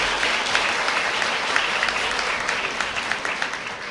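Audience applause at a high school senior awards night, a steady dense wash of clapping hands filling the hall without letup, fairly close and loud throughout.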